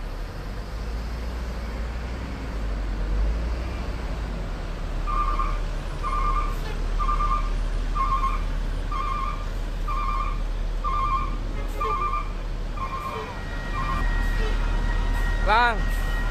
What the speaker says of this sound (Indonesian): Sultan Class V86 Livery Legend proses parkir